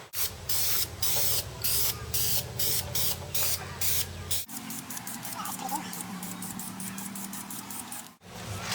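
An aerosol can of Rust-Oleum rust reformer hisses onto a V8 Studebaker's alternator in a series of short bursts, then one longer continuous spray, close by with a soft pause between.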